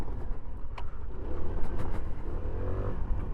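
A Hero Xoom 160 scooter with 14-inch wheels ridden off-road, its engine droning steadily and loudly up close with wind and rough-ground rumble, no talking.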